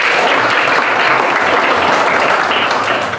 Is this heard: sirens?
no